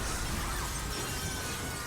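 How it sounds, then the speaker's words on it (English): A window's glass shatters in the Stranger Things 3 episode "Chapter Eight: The Battle of Starcourt": a loud, dense crash that fills the whole short moment. "she exerts so much power, so much force that the window behind her just shatters"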